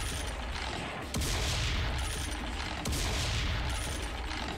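Super shotgun blasts in Serious Sam 3, a couple of loud booming shots over constant chaotic game noise, with no voice over them.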